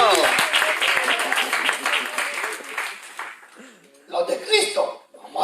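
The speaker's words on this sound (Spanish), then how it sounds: "Fuerte ese aplauso de Dios." A church congregation applauds during a sermon on the resurrection, a loud burst of clapping and cheering that thins out, dips, then swells briefly again with voices mixed in.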